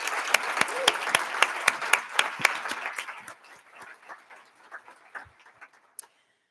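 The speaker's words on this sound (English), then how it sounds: "Let's give them another round of applause." Audience applause at a mayor's budget address after student performers, a dense burst of clapping for about three seconds that thins into scattered claps and fades out by six seconds.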